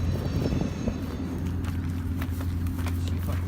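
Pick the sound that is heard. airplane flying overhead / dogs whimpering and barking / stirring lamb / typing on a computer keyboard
airplane flying overhead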